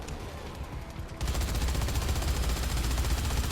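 Sustained rapid gunfire in Dead Rising 3 as firearms are turned on a horde of zombies, a dense continuous automatic burst starting abruptly after a quieter moment and holding loud throughout.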